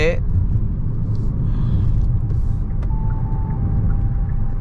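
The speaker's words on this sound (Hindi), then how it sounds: "इस पे हर गाड़ी में आपको रोड नॉइज़ ज़्यादा मिलेगा" Steady low road and tyre rumble from a Hyundai Alcazar 1.5 turbo petrol DCT cruising on the cement concrete Yamuna Expressway, a continuous loud drone heard from inside the cabin with a faint tone partway through.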